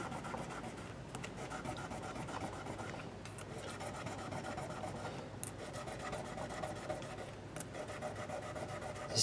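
Guitar frets are polished to remove dirt and corrosion, giving a quiet, continuous rubbing rasp with a few sharper periodic strokes throughout.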